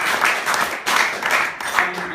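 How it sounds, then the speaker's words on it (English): A wedding reception crowd applauds close by in dense, uneven bursts of clapping that swell and dip over a couple of seconds. "So, a round of applause for Bill and"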